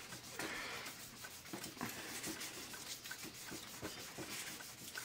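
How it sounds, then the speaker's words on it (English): Fine sandpaper rubs steadily against the surface of a video game disc, a continuous close scratchy rasp pulsing with short repeated back-and-forth strokes for several seconds. "I use a piece of the sandpaper, the fine, that comes off of my JFJ"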